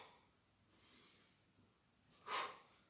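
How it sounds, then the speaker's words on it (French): A person at home takes a single sharp breath in during a squat with a stick held at shoulder level, a brief breathy rush near the mic toward the end after quiet, faint breathing. "J'inspire."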